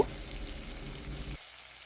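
Ginger-chili paste frying in hot oil with black cumin seeds in a wok, a soft, steady sizzle heard close that cuts off abruptly partway through, with no talk.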